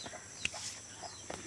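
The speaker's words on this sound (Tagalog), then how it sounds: "Yan, may manok." A hen with her chicks in a mountain farmyard gives a few short, soft clucks, faint and somewhat distant against quiet background noise.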